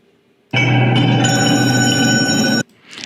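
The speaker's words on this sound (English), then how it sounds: "Now she's hearing the phone ring." A loud, close telephone bell rings in one continuous burst lasting about two seconds, then stops abruptly, leaving near silence.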